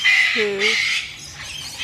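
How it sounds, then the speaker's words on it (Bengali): A kingfisher at a deer park gives a short, harsh squawking call, close and loud, over faint outdoor background noise. "মাছরাঙা বড়"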